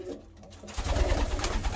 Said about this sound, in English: All my race birds are vaccinated for both PMV and Rota.